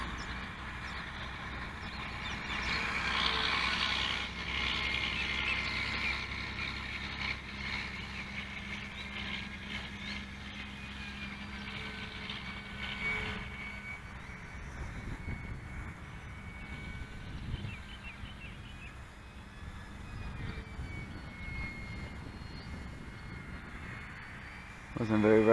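An Avios 1200mm Hawker Sea Fury 'Riff Raff' racer RC model plane makes its maiden flight, its motor whine droning and shifting in pitch as it passes overhead, while people talk nearby.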